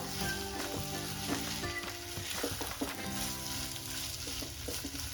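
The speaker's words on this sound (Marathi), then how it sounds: "आपण तेलात किंवा तुपात भात बनवतो याचा अर्थ आपण त्याच्यात परतला पाहिजे अगदी व्यवस्थित असा." Rice sautés in oil or ghee inside a pressure cooker for soybean pulao, giving a dense, continuous sizzle and crackle with stirring scrapes throughout, loud and close.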